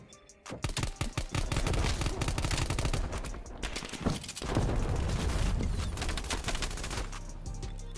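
Rapid dense gunfire from dual-wielded 1911 pistols in a first-person shooter, a loud sustained burst of overlapping shots with a brief lull midway before the firing resumes.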